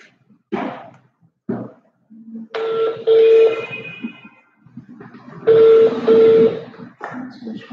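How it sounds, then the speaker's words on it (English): A phone is dialed to place a call, with a series of short electronic keypad tones and call-progress beeps in separate bursts, fairly close and clear, with no talk over them. "So I'm calling Yemisi Ajao now"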